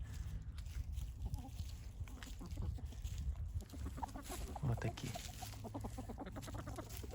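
Chickens cluck and a rooster calls nearby in an outdoor yard, with a person speaking briefly among the birds.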